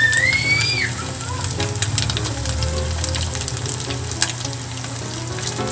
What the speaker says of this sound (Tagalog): Ipa-fry po natin siya ng until golden brown.